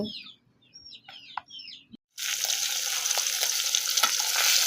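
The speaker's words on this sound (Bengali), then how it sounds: "দেখো বন্ধুরা পাঙ্গাস মাছগুলো এখন বাজি করে দিচ্ছি" Pangas fish coated in turmeric and chili hitting hot oil in a pan, a sudden loud sizzle that keeps spitting and crackling after a quiet start with hens clucking nearby.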